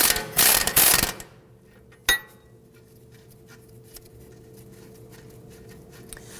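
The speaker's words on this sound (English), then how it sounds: "We're going to use a 21mm socket on our impact gun." An impact gun with a 21mm socket removing strut-to-knuckle nuts on a 2001-2009 Volvo S60 gives a short, loud rattling burst at the start, followed by a single sharp metallic clank and then faint shuffling.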